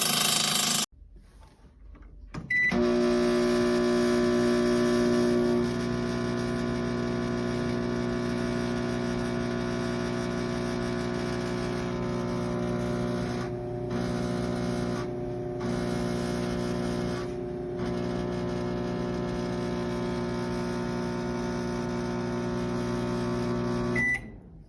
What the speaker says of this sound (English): This is what my refurbished, excellent shape Toshiba sounds like in convection cooking mode.